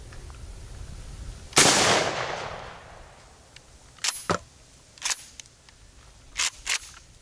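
A single 12 gauge wax slug fired from a Mossberg 500 shotgun with an 18.5-inch Slugster barrel, one sharp loud blast with a decaying tail, followed by several fainter clicks and knocks.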